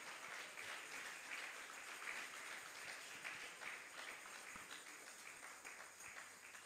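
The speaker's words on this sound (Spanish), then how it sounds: "Dele fuertes palmas al que vive y al que reina." Steady, dense applause from a church congregation during a worship service, loud and continuous throughout with no pauses.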